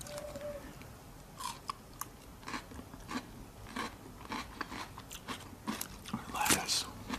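Close, crisp crunching bites and chewing on shrimp, salad and raw red pepper, irregular snaps and crackles spaced through the eating, with little else around.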